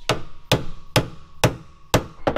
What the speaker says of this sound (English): Where's the hammer? So I'm going to give this a little tap-tappy